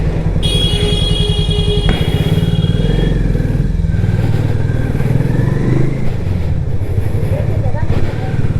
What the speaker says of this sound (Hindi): और फिर बिल्कुल सही चल रही है बाइक।